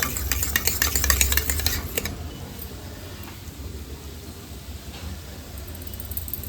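Palak mushroom gravy with yogurt mixed in is fried and stirred in a pan, with a burst of spoon scraping and clatter over the first two seconds, then a low simmering hiss.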